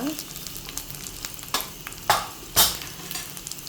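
Garlic cloves, mustard seeds and cumin seeds fry in hot oil for a lentil dal tempering, a steady close crackling sizzle with a few louder spattering bursts as the pan is stirred.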